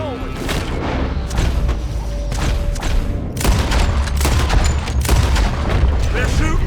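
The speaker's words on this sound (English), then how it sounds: "They're shooting from that building." Dense gunfire in Red Dead Redemption 2, with shots coming from a building: loud, rapid overlapping rifle and pistol cracks and booms over a steady low rumble, with battle noise throughout.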